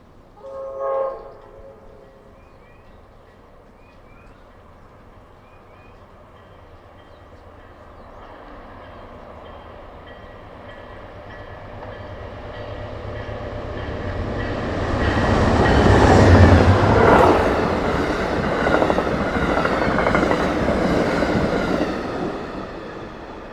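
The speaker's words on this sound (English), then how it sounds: "Today's train is running on time and was even into Harrisburg 13 minutes early" An Amtrak passenger train passes on the Keystone Corridor near Harrisburg in winter, opening with a short horn call. Its rumble and rail clatter swell steadily to a loud peak and then ease off, with no voices.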